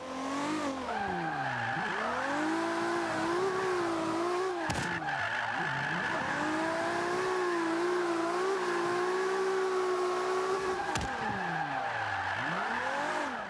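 Toyota Supra drift build in Forza 5 holds a steady, loud engine drone with sliding tyre squeal throughout, pitch dipping and rising as it revs through corners, with two sharp shifts or bumps along the way.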